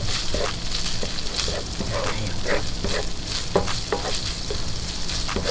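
Bacon and garlic fry in a pan for Manila-style carbonara, a loud, steady sizzle with occasional scraping and stirring clatter, close up and without speech.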